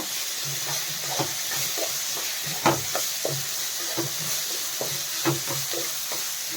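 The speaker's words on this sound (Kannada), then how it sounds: "ಶುಂಠಿ ಬೆಳ್ಳುಳ್ಳಿ ಪೇಸ್ಟ್ ಹಾಕ್ತಾಯಿದ್ದೀನಿ" Ginger garlic paste fries in a pan for soya chunks gravy, a steady close sizzle broken by the regular scrape and knock of a spoon stirring.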